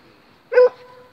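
A dog in a meadow gives a single short bark or yelp during a scuffle with other dogs, near and fairly loud against a quiet background.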